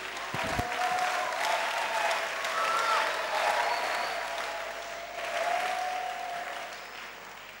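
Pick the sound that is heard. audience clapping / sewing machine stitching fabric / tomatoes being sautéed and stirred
audience clapping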